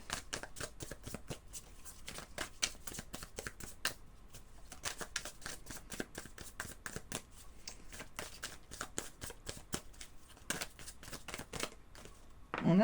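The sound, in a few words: shuffling tarot cards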